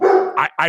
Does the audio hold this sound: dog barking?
yes